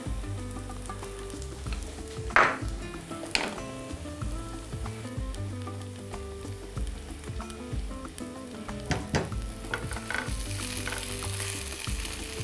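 Chopped onion sizzles and crackles steadily in a hot frying pan, a close, continuous fry with a few sharper spits and occasional stirring clinks, no voices.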